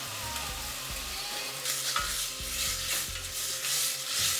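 Broadband hiss and soft rubbing over low rhythmic thumps, near and fairly quiet, consistent with stale bread being torn apart by hand in a kitchen, with no voices.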